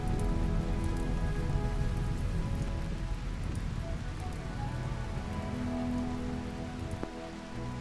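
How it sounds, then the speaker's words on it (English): Steady, dense rain falls throughout in the video game RimWorld, a close, continuous patter with a brief crack near the end, with no talk over it. "It's raining."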